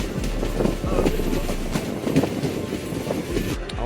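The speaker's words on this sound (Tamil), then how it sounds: "அவ்வளோதான், ஆனந்தபுரி எக்ஸ்பிரஸ் கிளம்பிடுச்சு." The Ananthapuri Express departing Kulithurai railway station rumbles steadily nearby, low heavy rolling with faint rhythmic clatter, continuous throughout with a muffled murmur of background activity.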